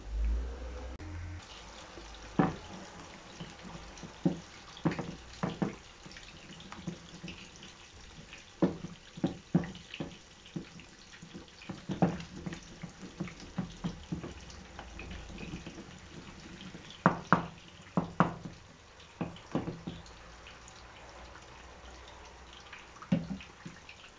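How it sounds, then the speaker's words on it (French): Tap water runs steadily and faintly as hot water is added, with scattered clinks and knocks from a kitchen around it. "Je rajoute un peu d'eau chaude."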